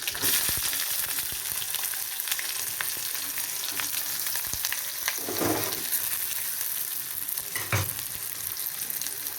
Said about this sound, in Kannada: ಬಾಂಡಿಗೆ ಎಣ್ಣೆ ಬಿಡ್ತಾ ಇದ್ದೀನಿ ಕರಿಬೇವು ಹಸಿಮೆಣಸಿನಕಾಯಿ ಈರುಳ್ಳಿ